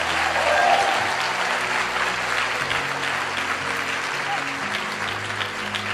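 An audience gives itself a round of applause, with steady, full clapping throughout and a low sustained musical tone running underneath.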